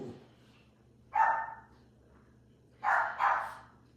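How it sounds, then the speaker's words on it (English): Dogs barking at delivery people arriving at a home, two bursts of loud, close barks about a second and a half apart, with no speech. "Forgive the commotion with the dogs."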